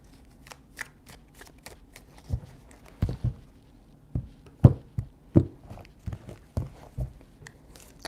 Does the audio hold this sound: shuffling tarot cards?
yes